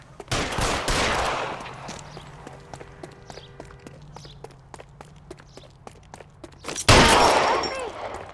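Gunfire in L.A. Noire, with a loud burst of shots near the start and another sharp, close volley near the end. Quick running footsteps and scuffs fill the quieter stretch between them.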